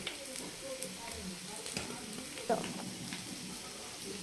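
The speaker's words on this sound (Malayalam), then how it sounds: "ഇനി നമ്മൾ വൃത്തിയാക്കി വെച്ച മീൻ ഇതിലേക്ക് ഇട്ട് മിക്സ് ചെയ്യാം" Cleaned sardines tipped into a hot pan with garcinia and stirred in, giving a steady sizzle with a sharper burst partway through as the fish land, followed by continued frying.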